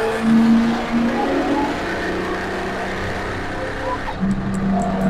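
A 2003 Ford Mustang GT on a racetrack holds a steady, loud engine drone with shifting tonal pitch, a downshift-like change near the end, and faint tire noise throughout.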